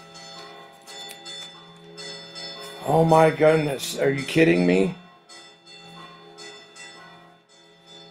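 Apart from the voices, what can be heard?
church bell ringing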